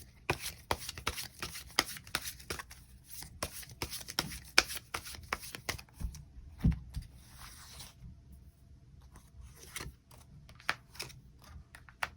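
Tarot cards are shuffled by hand in a long run of quick, crisp riffling and tapping bursts, close and moderately loud, with short pauses between.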